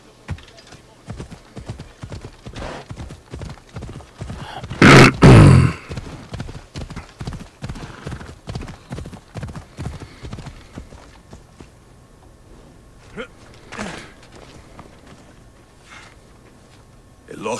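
Steady clip-clop of horse hooves at a walking rhythm in the video game Assassin's Creed: Origins, close and distinct, with a loud burst of talk partway through.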